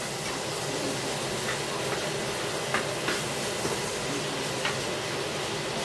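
Shrimp sizzling and frying in a pan on the stove while being stirred, a steady crackling hiss with occasional scraping clinks of the utensil, heard up close with no talking.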